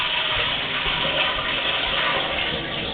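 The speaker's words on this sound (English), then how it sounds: "I'm going to flush a toilet to clean off my camera head." A toilet flushes in a PVC sewer line, heard from inside the pipe near a camera head as a steady loud rush of running water with no talk.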